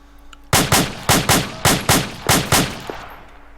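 Rapid rifle gunshots from the military shooter Arma 2 in close-quarters combat, eight sharp loud reports fired in quick pairs and bursts with short decays, no talking.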